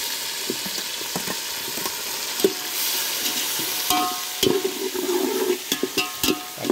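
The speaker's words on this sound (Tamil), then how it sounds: "இப்போ தக்காளி போடுவோம்." Tomatoes hitting hot oil with golden-brown onions for a mutton biryani, a steady sizzle and fry with scattered stirring clatters and scrapes of a spoon in the pan, close and continuous with no talk.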